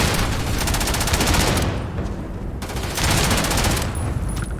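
Rapid automatic AK rifle fire in Starfield, two loud sustained bursts of dense rattling shots separated by a short pause, close and dominant.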